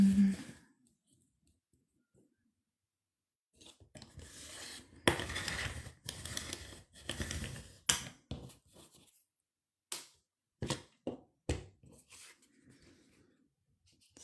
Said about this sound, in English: So I'm gonna go ahead and cut it here.